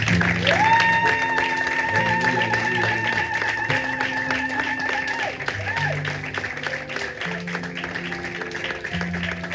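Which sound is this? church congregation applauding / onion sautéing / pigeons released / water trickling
church congregation applauding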